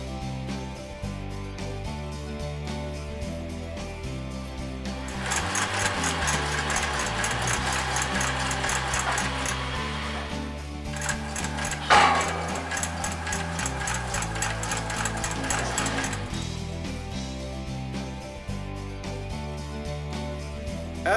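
Domestic sewing machine stitching squares of cotton bed sheet, running in two long steady bursts of rapid mechanical whirring and ticking, with quieter handling and clicks between them; no voices.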